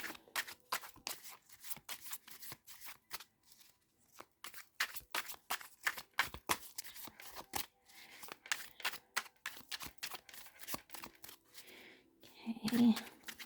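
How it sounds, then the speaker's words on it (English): An Art Nouveau tarot deck is shuffled and cards are drawn, producing rapid, close papery flicks and snaps in bursts, with brief pauses and some soft handling noise. "So let's draw 3 cards for you."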